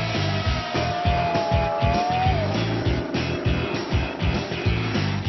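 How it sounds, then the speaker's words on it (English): A wedge-shaped Lotus 72 racing car running at the Festival of Speed, its engine roaring steadily and loudly with a rhythmic pulsing throb and a falling whine partway through; no talking. "The wedge-shaped Lotus 72 given a run out here"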